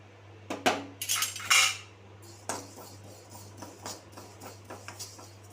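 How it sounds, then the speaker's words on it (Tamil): Sesame seeds roasting in a pan, heard as a burst of rattling and scraping as the seeds go in, then intermittent spoon-against-pan clinks and stirring scrapes, close and fairly quiet. "இப்போ எள்ளை கொட்டி வறுத்து எடுத்துக்கலாம்."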